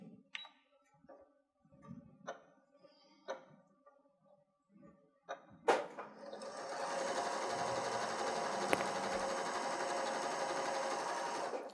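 A sewing machine stitches fabric for an autumn bucket bag, near and steady in a continuous run through the second half after a few faint ticks and handling clicks at the start.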